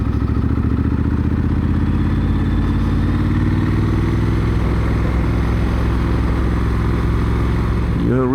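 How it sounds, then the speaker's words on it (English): Triumph Scrambler 1200 XC engine braking from high revs on a ride: loud, continuous rumbling engine drone with steady clattery pulsing throughout, close to the microphone, with a brief rev change at the end and no speech. "The engine braking is decent, especially from the higher revs."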